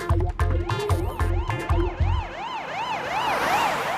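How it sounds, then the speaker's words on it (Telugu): Ambulance siren in a cartoon rises and falls in steady wailing sweeps, loud and close, over rhythmic low engine thumps early on, with no talking. "అంబులెన్స్ కూడా వచ్చేస్తుంది"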